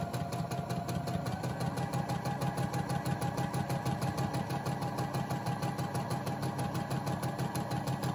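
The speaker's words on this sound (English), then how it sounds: "I'm just gonna sew it straight down." A sewing machine stitches a straight seam on a fabric mask, a fast steady mechanical whirr with rapid rhythmic needle pulses running continuously at close range without speech.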